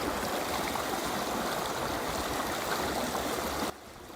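River water from an artesian well's overflow runs steadily beneath a park bridge, producing a close, continuous rushing flow that drops sharply in level just before the end.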